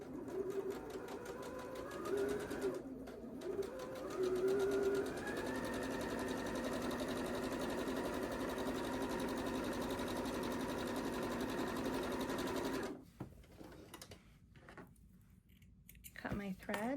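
Sewing machine joining quilt pieces together, running in a steady sustained whir for several seconds after a few short starts, then stopping into quieter handling noises and faint talk.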